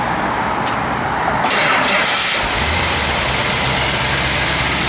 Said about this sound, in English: Car runs nice and smooth